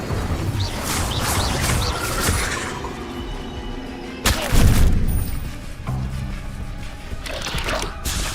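Incendio fire spell cast in Hogwarts Legacy amid a busy magic duel: whooshing flame bursts and crackling hits, with a sharp loud blast partway through and more spell impacts layered close together.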